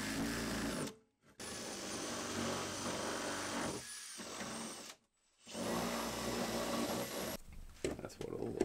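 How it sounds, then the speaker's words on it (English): A power drill bores out a switch hole for a hot water system inside a converted bus, whirring loudly in sustained bursts with brief pauses between runs. "drilling out the hole for the switch to the hot water system"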